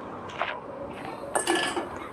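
A metal kadhai is set down on a kitchen stove, giving a few sharp clanks and clinks of cookware at close range, with brief quiet gaps between them.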